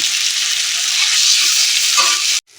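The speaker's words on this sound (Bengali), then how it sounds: "কাঁঠালের বীজটাতে একটু বেশ ভালো করে ভেজে নেব আর তেল দিয়েছিলে সরিষার তেল এখন ভাজা হোক" Jackfruit seeds with cumin fry in mustard oil, a loud steady close sizzle with stirring that runs without a break for over two seconds before cutting off abruptly.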